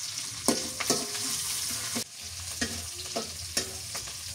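Garlic and chillies sizzle in hot oil, a steady bright hiss broken by repeated sharp scrapes and clacks of a stirring utensil against the pan, close and without talk.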